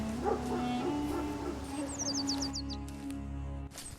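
A black dog is chased away, giving short yelps and whimpers among voices, with a brief chirping of birds partway through.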